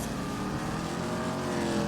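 A car driving in GTA Online, with a steady, continuous engine drone and road noise that sounds close and holds level for the whole stretch, with no talk over it.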